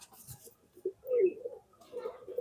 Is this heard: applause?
no